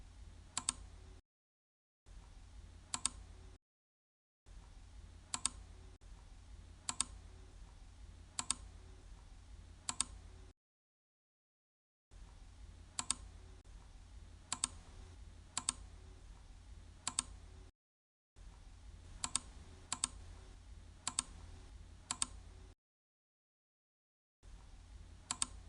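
Computer mouse clicks while issuing Snap4Arduino block commands, sharp single and paired clicks repeated at irregular intervals, quiet and close, in separate bursts broken by silent gaps.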